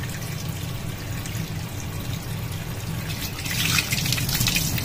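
Tap water runs steadily over a gas stove burner part as it is rinsed clean after soaping, a continuous splashing stream that grows slightly louder and brighter near the end.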